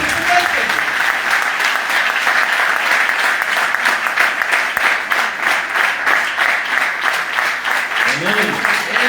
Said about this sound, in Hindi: let's clap our hands for Jesus